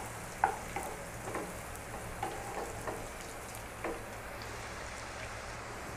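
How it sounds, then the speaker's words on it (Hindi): Onion fries briefly in a pan for a green chilli fry, making a soft, even sizzle with a few scattered stirring taps close by. "तो 30 सेकंड तक हमने अपनी अनियन को कुक कर लिया है"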